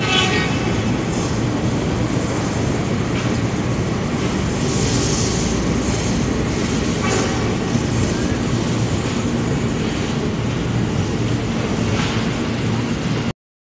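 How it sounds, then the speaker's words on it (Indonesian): A CC 206 locomotive at Manggarai station, its steady loud rumble and rolling wheel noise continuous throughout, near and alone, cutting off at the end. "Lokomotif yang berdinas CC 206 1350 Depo Induk Cipinang"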